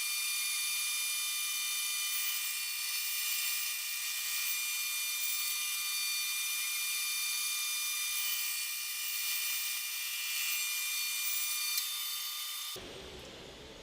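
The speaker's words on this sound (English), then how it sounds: "So next I want to cut this segmented ring, which has the maple spacers in between the segments." A power saw cutting thin discs from a segmented wood ring with maple spacers between the segments, a steady high whine running continuously for about twelve seconds before cutting off abruptly.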